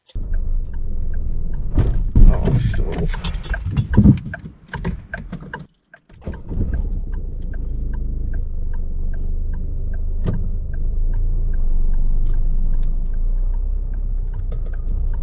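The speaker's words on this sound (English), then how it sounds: "So as you can see, Steph did stall the car." A learner driver's car stalls on a steep bank during a hill start: engine rumble and clunks cut off abruptly, then after a brief silence a steady low engine drone resumes close by.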